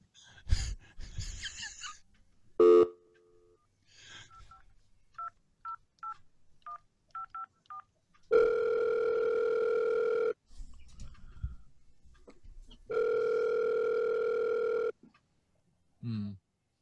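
A phone call is dialed with a quick run of touch-tone beeps, followed by two long, loud ring tones separated by silence while the caller waits for a pickup; brief gasps and noises sit between them.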